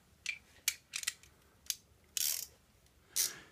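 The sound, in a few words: tightening motorcycle exhaust header bolts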